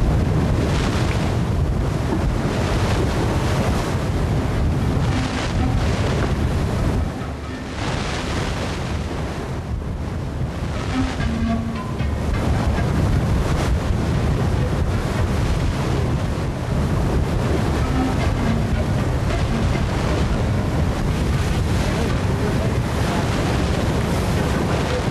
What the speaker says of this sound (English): soon the wind is back, on the nose again.